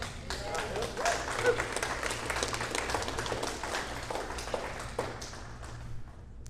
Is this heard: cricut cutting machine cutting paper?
no